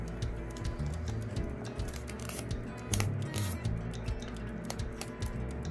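Paper being folded into a triangle, close crisp crinkling and sharp creasing taps in irregular bursts, quiet and with no talking.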